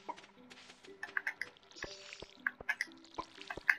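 Water from a watering can in Stardew Valley makes short, bright dripping plinks, scattered and quiet over soft game music tones.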